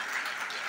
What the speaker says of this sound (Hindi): आप अपने लिए कम से कम जोरदार तालियां तो बजा दें।